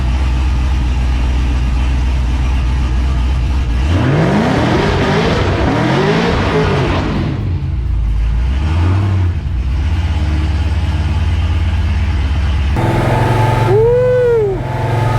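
A supercharged LS-swapped C10 pickup with about 800 hp idles with a deep rumble, then revs hard in rising sweeps, drops back, and pulls away loudly under acceleration.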